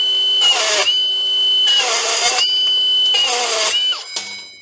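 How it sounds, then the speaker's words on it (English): A Milwaukee rebar cutter slices through 8mm rebar in three loud, close whirring motor bursts with a steady high whine between them, ending in a short clunk. "Right, 8mm with the rebar cutter."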